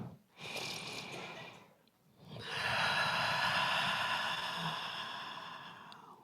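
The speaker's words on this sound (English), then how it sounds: "take a sacred breath with me" A congregation at a Sunday church service takes a deep breath together, a soft, airy inhale followed by a long, sustained exhale, heard alone without talk.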